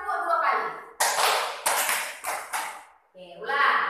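Schoolchildren in a classroom ice-breaking game clap in response to a teacher's cues, a few sharp group claps in a short uneven sequence between stretches of talking.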